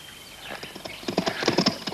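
Horses trot nearby in a cowboy western film, a quickening rhythm of hoof beats that grows louder, with a whinny mixed in.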